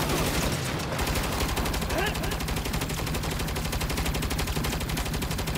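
Continuous rapid automatic gunfire from a Saints Row video game firefight, dense and loud throughout with a steady machine-gun rhythm, voices speaking faintly underneath.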